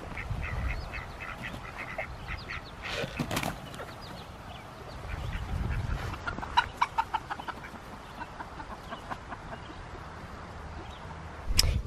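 Chickens cluck and squawk in a barnyard, with a few sharp bursts of calls standing out over a steady background of outdoor noise.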